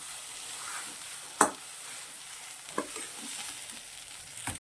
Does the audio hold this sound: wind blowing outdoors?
no